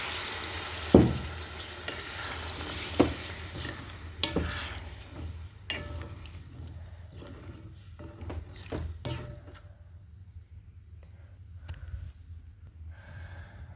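Broth is poured into a pan of frying stinging catfish curry. A few sharp clatters and splashes come first, then a hissing sizzle that slowly calms to a soft bubbling.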